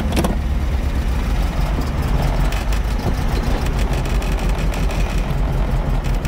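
A 1989 Pontiac Firebird Formula, sitting for seventeen years, running just after being started; a loud, steady idle with a rough mid-pitched engine rumble that persists throughout, no talking.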